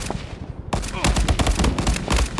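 Rapid automatic gunfire rattles in bursts during a four-versus-four online shooter match, dense and close, continuing almost without pause, with a voice faintly underneath.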